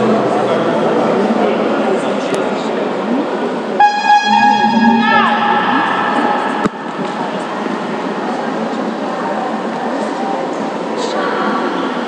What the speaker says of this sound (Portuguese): A buzina.